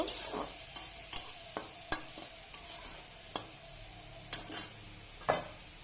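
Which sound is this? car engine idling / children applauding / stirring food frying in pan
stirring food frying in pan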